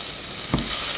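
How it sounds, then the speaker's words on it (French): Onions go into hot oil in a small saucepan, a brief soft sizzle and stir bursting out against a steady hiss of frying. "On met à l'intérieur l'huile. Et on va commencer à faire rissoler nos oignons"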